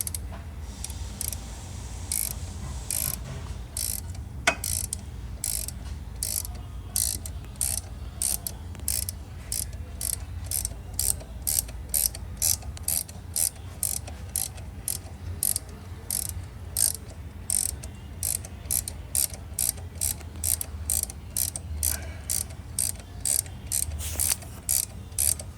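A 19 mm ratchet loosening the crankshaft pulley bolt on a 2007 Nissan Sentra 2.0, giving a long run of quick, close, repeated clicking strokes.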